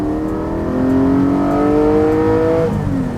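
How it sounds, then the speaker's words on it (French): A Porsche 718 Cayman GT4 with its exhaust valve open revving hard, engine tone climbing steadily in a loud, rising growl from inside the car, then easing off near the end. "Et une fois qu'on passe les 4000 tours, ça commence à gronder sévère."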